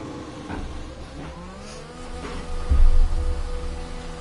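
An F1 2021 video game car pulls out of the garage, a buzzing engine whine rising in pitch as it accelerates, swelling louder and deeper toward the end over a steady pit background.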